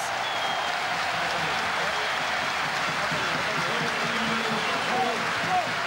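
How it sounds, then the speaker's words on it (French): Stadium crowd at a Top 14 rugby match in Perpignan applauding departing player Nicolas Mas, a steady broad wash of clapping from a large distant crowd that holds evenly throughout, with commentary voices over it. "Pas de sifflet, mais des applaudissements pour un guerrier qui a tant donné"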